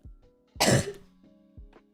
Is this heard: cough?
yes